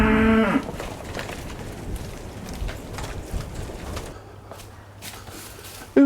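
Cattle mooing on a farm in winter, one long loud close moo followed by quieter lowing from the herd, with rustling and ambient farmyard noise.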